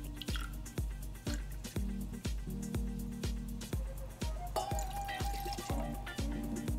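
Montenegro amaro pours into a cocktail tin, a quiet run of quick, rhythmic glugging drips close by, with music in the background.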